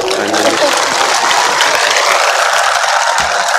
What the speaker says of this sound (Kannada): ಜೋರಾಗಿ ಚಪ್ಪಾಳೆ ತಟ್ರಿ